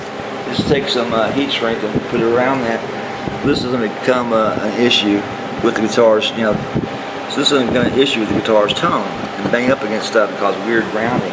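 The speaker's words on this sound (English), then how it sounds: "It's that air conditioner going" A room air conditioner and a fan run together, making a steady, constant whooshing hum beneath someone talking continuously close to the microphone.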